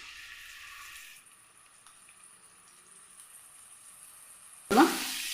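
Ginger and garlic drop into hot oil in a pan with a sudden loud sizzle near the end, following a quieter stretch of faint kitchen hiss.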